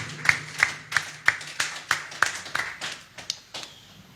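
A church congregation claps in a steady rhythm to acclaim the Lord during a worship service, about ten sharp, evenly spaced claps that fade toward the end.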